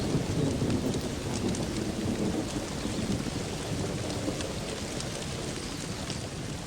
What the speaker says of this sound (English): The downpour does little damage to the earthen mounds.